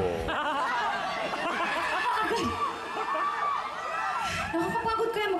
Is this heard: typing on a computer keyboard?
no